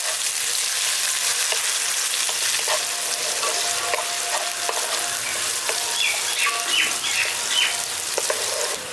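Thinly chopped onions frying in a pan until reddish, a loud, dense, continuous sizzle with light stirring scrapes and faint clinks throughout, close up.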